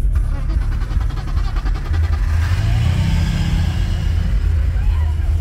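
A car converted to a 330 engine with a six-speed manual gearbox idles with a deep rumble, then revs up about halfway through and holds a louder growl, while people talk nearby.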